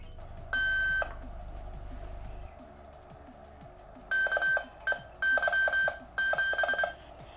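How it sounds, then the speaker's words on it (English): A Savannah tracking collar powering up: a single electronic beep sounds, then after a pause a series of short beeps in uneven, Morse-like bursts, clear and close. "A single beep followed a few seconds later by a Morse code like signal."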